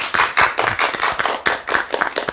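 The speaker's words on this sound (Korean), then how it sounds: "우리 하나님께 감사와 영광의 박수를 드리십시다." A Korean church congregation claps together in rhythmic bursts during a Sunday service, roughly even strokes repeating several times a second, loud and close with no talking.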